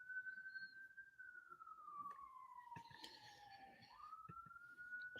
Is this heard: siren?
yes